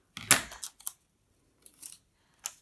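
Scissors snipping paper for a junk journal craft project: one loud close cut followed by several lighter, quicker snips spread over a couple of seconds, with quiet gaps between them and no talking.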